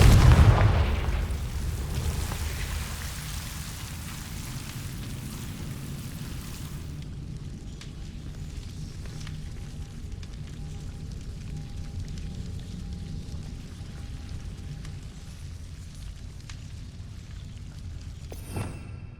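A Confringo fire spell in Hogwarts Legacy bursts with a deep booming blast at the start, then trails into a long low rumble that slowly fades and ends with a short thud.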